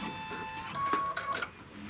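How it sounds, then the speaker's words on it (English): An embroidery machine stitches a placement line on stabilizer for a round pillow, quick mechanical whirring and tapping with brief rising tones, close and steady over two seconds. "go to the embroidery machine, and then what it's going to stitch off first is just going to be like a placement line"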